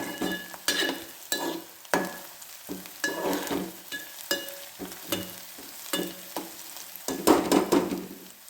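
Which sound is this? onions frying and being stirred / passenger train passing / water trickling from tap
onions frying and being stirred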